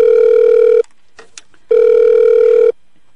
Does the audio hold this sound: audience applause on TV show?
no